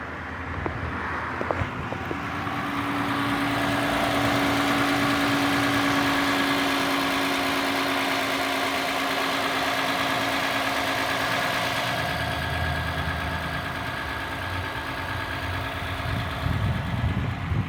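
A 2013 Lexus ES 350 V6 idles after throttle body and MAF cleaning, a steady close-up hum with a faint roughness and a slight drop in revs over time, with no voices.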